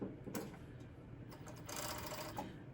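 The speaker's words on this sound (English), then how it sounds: "So as I'm serging this" A serger stitching elastic runs in a close, steady mechanical whir, with the motor surging slightly louder toward the end and no voices.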